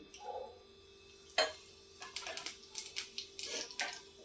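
Mustard seeds and cumin splutter in hot oil while dum aloo is being made, sharp crackles that start sparse and quickly grow into a close flurry of pops.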